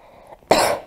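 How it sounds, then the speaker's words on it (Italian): A single short, sharp cough given on request during a chiropractic session, close and loud after a brief near-silent pause. "Fammi un colpo di tosse."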